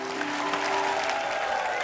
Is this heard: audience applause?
yes